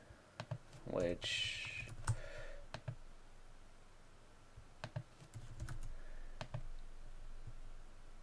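A password is typed on a computer keyboard as a few quick clustered keystrokes and sharp clicks, with a voice briefly talking over them and quiet gaps between.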